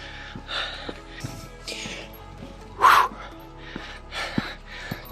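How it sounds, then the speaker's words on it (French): A dog panting on a mountain trail near a cliff edge at sunrise: soft, breathy bursts at close range, with one louder snort-like puff midway. "Ah mon chien."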